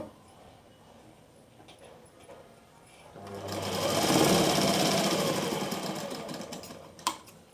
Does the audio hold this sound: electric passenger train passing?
no